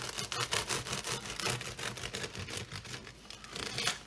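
Faint, crackly crunching and scraping as a knife saws through a hot, crusty no-knead loaf, with rhythmic crackles continuing throughout at low volume.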